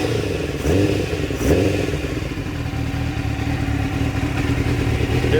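A Suzuki GSXR750 motorcycle engine warms up with its airbox removed, running loud and steady up close with a couple of quick rev blips near the start over a continuous rough idle.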